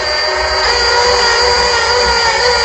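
A power drill bores through pre-drilled material at close range, its steady high-pitched whine and dense broadband roar holding continuously with no pauses or talk.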